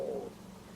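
A brief, low gurgling rumble from a person's stomach, faint and close, lasting well under a second.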